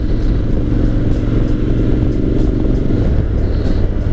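Honda X-ADV 750 scooter, 54 horsepower, in automatic drive mode on a test ride, a steady low engine drone with road rumble throughout, close and constant without clear revving.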